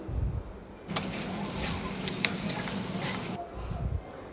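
Stirring a chicken and potato mince mixture in a frying pan for mixed chops, a steady sizzle with scraping spoon strokes lasting a few seconds, with quieter moments before and after.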